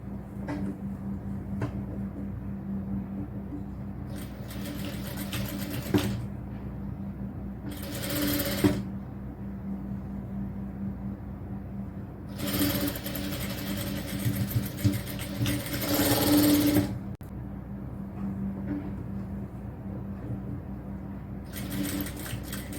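A sewing machine stitching the shoulder seam of a cotton top, its motor whirring in several close bursts of stitching separated by quieter pauses with a low steady hum.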